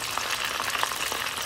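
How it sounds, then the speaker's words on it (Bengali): Chicken pieces frying in hot oil give a steady, dense sizzle with scattered small pops, close and continuous throughout, with no voices. "চিকেনটা ফ্রাই করলাম তেলের মধ্যে"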